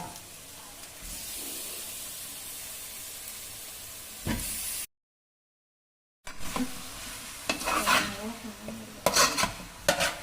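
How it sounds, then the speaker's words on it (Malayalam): Chicken pieces go into a frying pan of coriander-spiced masala for a Kerala-style chicken curry, giving a steady close sizzle and then scraping, clattering stirring after a brief silent gap, with no talking. "ഇനി ഇതിലേക്ക് ചിക്കൻ ഇടുക."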